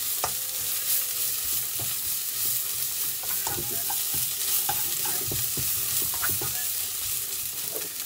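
Celery and spring onion stir-frying with pork and chicken noodles in a hot pan, a constant loud sizzle with repeated tossing and scraping knocks spread evenly through the clip.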